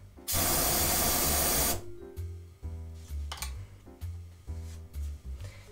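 Absinthe set alight as a flaming garnish for a Sazerac cocktail: a loud, steady whoosh of ignition lasting over a second, followed by softer clinks and rustling handling sounds at the bar.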